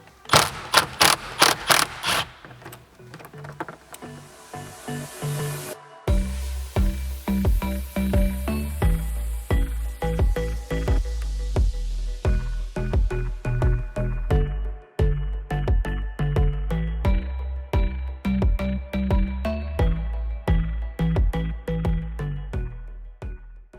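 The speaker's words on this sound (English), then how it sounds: "get a 10mm socket and undo" Mechanical clicking and ratcheting from a 10mm socket on a ratchet undoing bolts on a 79 Series Toyota dash, a steady run of close, repeated clicks with a low hum underneath and no talking.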